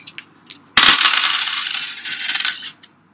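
Coins are tossed and dropped, landing with a bright metallic clatter and ringing spin that fades after a couple of seconds, preceded by a few light clicks, close and without talk.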